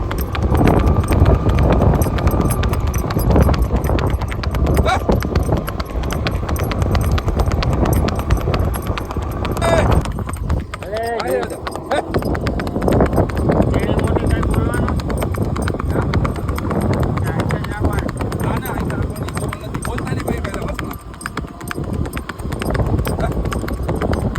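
A mare being ridden at a gait sends out a steady, quick clip-clop of hooves throughout, loud and close, while someone talks over it.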